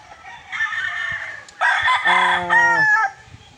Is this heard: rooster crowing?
yes